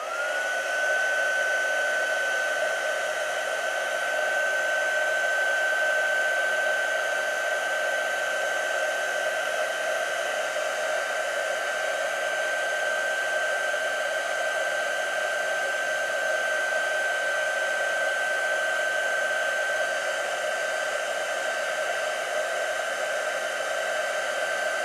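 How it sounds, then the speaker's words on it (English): Heat tool blowing steadily to set embossing powder on a lace card project, a continuous loud whirring hiss with a high whine, unbroken for the whole stretch with no talking. "I'm going to heat set this entire piece with the heat tool."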